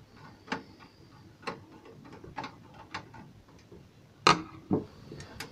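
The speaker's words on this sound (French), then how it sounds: "Nous allons donc nous munir du tournevis cruciforme pour dévisser et retirer toutes ces" Phillips screwdriver backing screws out of a video recorder's casing, giving a series of quiet, close ratcheting clicks and ticks at irregular intervals, with a couple of sharper knocks near the end.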